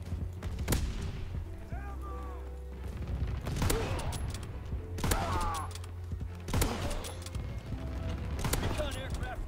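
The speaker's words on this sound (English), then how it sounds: "Anti-aircraft bursts commenced." Anti-aircraft guns fire bursts in a WW2 shooter game, with sharp cracks that come in several clusters over a mechanical hum and game effects, while players chatter over them.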